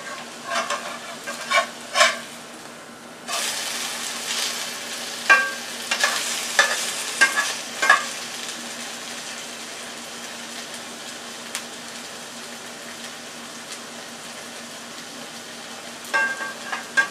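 Thin shredded potato hash browns fry in a pan with a constant crackling sizzle, broken by several scraping stirs and taps of the spatula early on and again near the end.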